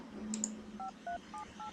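Phone buttons pressed to dial a number in the Darkness Within video game, a series of short electronic tones in an even, spaced rhythm, clear and close.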